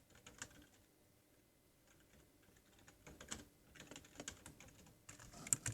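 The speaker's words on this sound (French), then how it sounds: "Je suis pas le mec qui tape le plus vite sur le clavier" Fingers type on a computer keyboard during a BedWars game session, producing quiet, irregular clusters of close clicks and key taps, with no voices.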